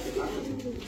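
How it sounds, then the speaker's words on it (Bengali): Belgian racing pigeon cooing softly at close range, a low burbling coo lasting under a second with quiet background murmur. "যেটা খুব স্পেশাল একটা মাদি কবুতর"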